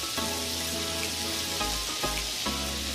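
Minced garlic, about a tablespoon, dumped into a hot pan for blackened salmon pasta, giving a steady close sizzle and crackle with a few brief clatters and shifts, no talking.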